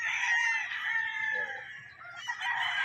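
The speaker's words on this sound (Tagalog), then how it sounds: "ito yung mga manok nyo dito" Several White Claret and White Kelso gamefowl chickens crow and cluck together at a moderate distance on a farm, overlapping calls forming a busy, steady farmyard chorus.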